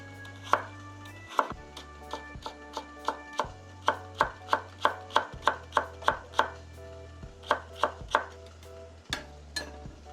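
Knife julienning carrots into 0.2 cm thin strips on a cutting board, a brisk run of sharp, evenly spaced chopping taps close up, with no talking.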